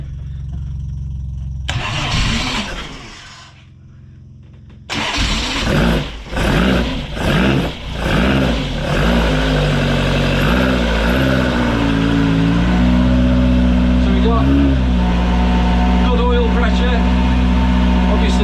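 A freshly built Ford Crossflow race engine in a TVR, cold oil, cranks briefly, falls quiet, then catches and fires, revving unevenly before settling into a loud steady idle. A voice speaks during it.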